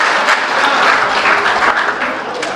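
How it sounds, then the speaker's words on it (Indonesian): A crowd at a gathering about a legal team breaks into loud, close applause, a thick continuous patter of many hands with small swells. "Beri tepuk tangan."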